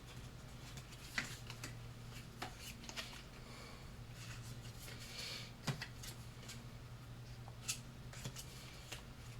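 Magic: The Gathering playing cards being drawn and handled at a Commander game table: faint, scattered soft clicks and slides over a steady low hum, with no talking.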